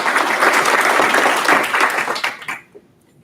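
Audience applause for a speaker at an intern symposium, dense, loud clapping from a room of people that holds steady and then tapers off and ends near the close.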